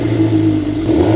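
A crashed Suzuki GSX-R750 motorcycle engine runs loud and close, holding a steady droning idle that rises slightly in pitch as it revs.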